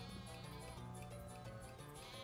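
Sheep bleating inside the Mario Kart Tour racing game, heard over constant game music and engine noise through a short stretch of play, at a steady, fairly quiet level.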